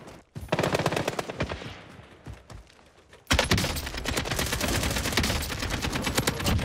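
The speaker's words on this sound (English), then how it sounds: "I'm shooting." Rapid automatic gunfire in a video game shootout, a quick burst near the start, a quieter pause with scattered shots, then a long loud sustained stream of rapid shots to the end.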